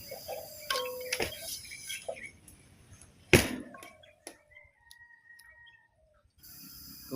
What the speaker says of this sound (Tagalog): Ayan, maririnig natin yung mga ibon-ibon.